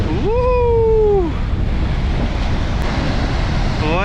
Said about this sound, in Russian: Вот такие шторма бывают.